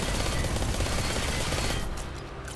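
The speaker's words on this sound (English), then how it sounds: "Alright, shooting from the hip." A weapon fired from the hip in Destiny 2 lets out a loud, dense stream of rapid automatic shots. The burst runs continuously for about two seconds, then eases slightly at the end, with no talking.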